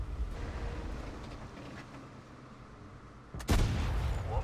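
A tank cannon fires in the video game World of Tanks, a single sudden booming blast near the end, following a stretch of low engine rumble and ambient battlefield noise.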